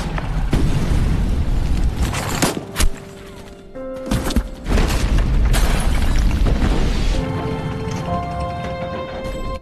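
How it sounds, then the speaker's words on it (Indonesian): A tank fires its cannon in a war scene: heavy booming blasts and explosions with rumbling debris, a sharp burst near the middle, then lingering low roar under a rising musical tone. "sebuah tank yang muncul dan melepaskan meriam"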